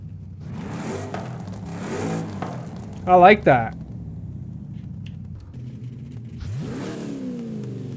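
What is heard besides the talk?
Chevy car exhaust revving in video game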